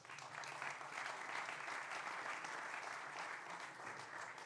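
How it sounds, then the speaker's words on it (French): An audience at a round-table conference claps together, a continuous even wash of applause at moderate distance that holds steady throughout and ends without any speech. "On peut applaudir Sana."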